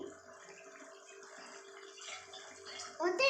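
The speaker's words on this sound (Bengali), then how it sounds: "আমি গরম জলই দেবো এখানে" Hot water poured from a flask into a pan of papaya curry, a soft watery pour under a voice, ending in a louder splashing burst.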